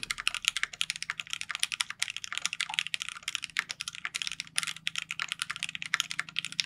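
Rapid, continuous clacking of keys on a KBD8X Mark II mechanical keyboard from KBDfans, close up and fairly quiet, with no one speaking.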